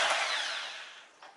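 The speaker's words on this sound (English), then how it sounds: "the next thing we're going to do is break the flywheel bolt loose. This is a 15/16 socket." A power tool on a 15/16 socket breaks loose the flywheel bolt of a Briggs and Stratton 12.5 HP flathead lawnmower engine: one close, brief whirring burst that fades, then a small knock.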